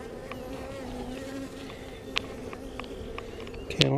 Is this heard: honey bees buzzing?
yes